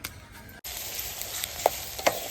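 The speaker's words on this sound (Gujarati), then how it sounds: "પાવડરનો ચટનો વઘાર મારી દીધો" Spices crackle and sizzle in hot oil, a steady hiss with a few sharp pops and stirring clatters.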